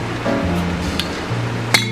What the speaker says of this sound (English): I also have a quart-sized jar of whole tomatoes that I canned up